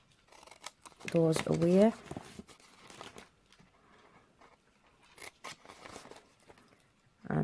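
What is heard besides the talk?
snipping away paper rectangles for a DIY desk calendar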